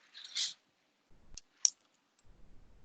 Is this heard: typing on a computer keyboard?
yes